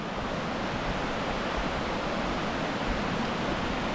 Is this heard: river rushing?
yes